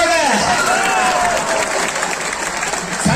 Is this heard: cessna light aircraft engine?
no